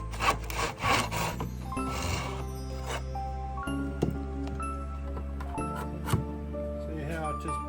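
Hand saw cutting small angled pieces of clamped scrap wood for a snowflake decoration, with rasping strokes early on followed by lighter rubbing and tapping sounds, close and moderately loud under intermittent talk.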